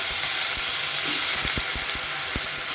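Onion, flat beans and potatoes frying in hot oil in a pan, a steady loud sizzle throughout with a few soft stirring knocks and scrapes, no voices.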